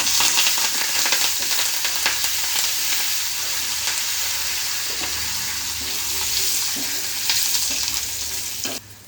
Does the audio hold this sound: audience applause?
no